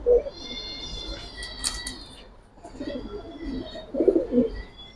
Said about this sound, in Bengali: কবুতরগুলো উড়ানো কবুতর ভাই